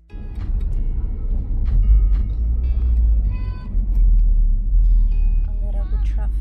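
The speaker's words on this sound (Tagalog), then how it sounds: "A little bit traffic." Road traffic rumbles steadily around a car driving toward a hospital in Turkey, a constant low engine drone with passing vehicles and faint clicks, close and continuous throughout.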